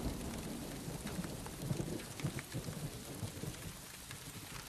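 Steady rain falls outdoors during karate practice, a dense continuous hiss with soft patter and faint low rumbles, moderately quiet and unbroken throughout.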